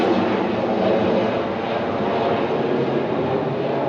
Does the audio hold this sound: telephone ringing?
no